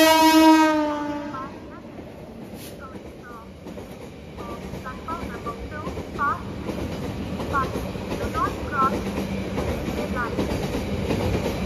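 A fast train rumbles steadily through Neral railway station, passing platform 2, with a long horn blast at the start, rhythmic clattering and squealing tones following, loud and close.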